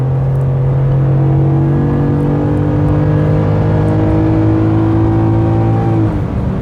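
Coyote V8 engine of a Ford F-150 Tremor pickup revving steadily in a strong, loud drone with a slight rise in pitch, cutting off near the end.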